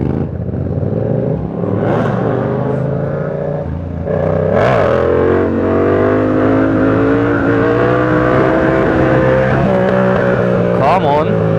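A motorcycle on a London night ride revs hard as the rider lifts into a wheelie, the engine note rising and holding loud and close amid traffic rumble, with someone talking over it.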